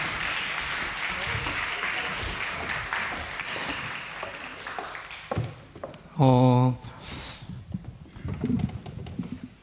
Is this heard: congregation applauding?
yes